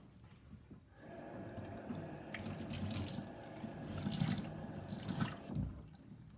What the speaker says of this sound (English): I gave it a quick rinse and a squeeze